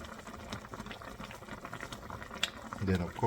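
A pot of pork afritada bubbles steadily at a low simmer, soft gurgling and popping, with a brief clatter and a voice near the end.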